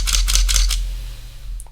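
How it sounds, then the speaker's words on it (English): Canon EOS RP mirrorless camera shooting in handheld night scene mode, firing four rapid shutter clicks in a quick burst, close and crisp, followed by quiet hum and a faint beep. "when I press the shutter and I just hold it,"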